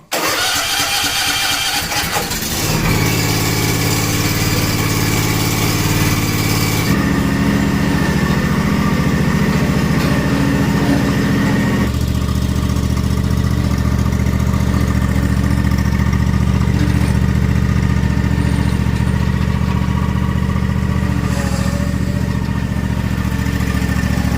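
A Husqvarna Z 242 F zero-turn mower engine cranks and catches, then runs steadily up close, shifting speed a couple of times before settling into a constant loud drone.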